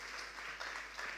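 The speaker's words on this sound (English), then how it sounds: "let's give them a round of applause once again" Steady, even applause from a school quiz competition audience for competing junior high teams, a dense wash of many hands with no voices.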